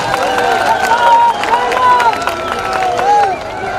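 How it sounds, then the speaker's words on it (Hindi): A crowd at a public rally in Nawan claps to welcome Chief Minister Ashok Gehlot. Sustained, dense applause with cheering and tonal whistle-like calls runs steadily for several seconds, close and loud. "ये आप ताली बजाकर एक बार सीएम साहब को पूरा स्वागत करेंगे"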